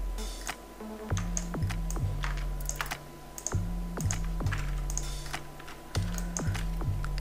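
Keys clack on a computer keyboard in quick bursts and single taps, close and fairly quiet, with short pauses between runs of typing and a faint steady hum underneath.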